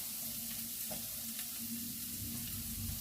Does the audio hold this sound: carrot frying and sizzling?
yes